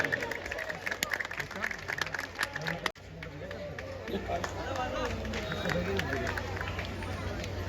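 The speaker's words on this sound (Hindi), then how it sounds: "तालियों की आवाज नहीं रुकनी चाहिए" A Ramlila audience in Saharanpur claps amid crowd murmur and voices, with a sharp break partway through before the clapping and babble resume at a steady, moderate level.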